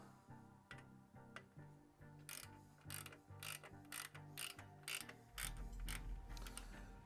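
A 3/16 ratchet tightens the T-bolt of an exhaust clamp on a Harley-Davidson 2-into-1 exhaust, giving repeated close bursts of sharp ratcheting clicks with short pauses between strokes.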